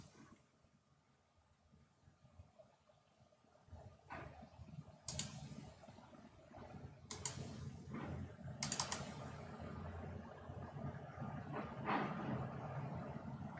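Keystrokes on a computer keyboard during a live stream, a few sharp isolated clicks standing out over a low, steady background hum, spaced irregularly and close by.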